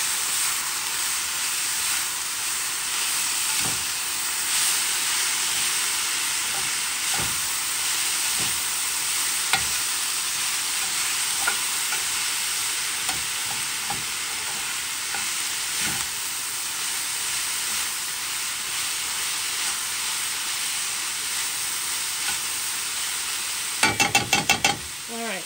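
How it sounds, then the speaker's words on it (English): Turkey sausage, peppers and onions are stirred together in a frying pan, with a steady sizzle throughout and scattered scraping taps of the utensil against the pan, growing busier near the end. "I'm going to add the turkey sausage back in. And just kind of mix those together"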